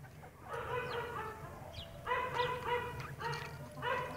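Several hens cluck in short bursts over a steady low background hum, with pauses between the bouts; a distant bark may be mixed in. Giant Indian breed chickens.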